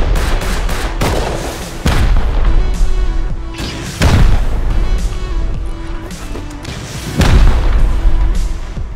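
Rockets slam into a base on an ice lake during a raid in the video game Rust, heavy booming blasts that hit in a rough rhythm every couple of seconds, loud and close with rumbling tails between them.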